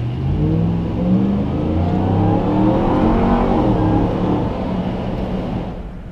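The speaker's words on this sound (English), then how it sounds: "I think we gotta launch it. Should I rev it next to this this little sedan?" A supercharged V8 6x6 truck revving and launching: a loud, continuous engine roar whose pitch climbs steadily and holds high before easing off slightly at the end.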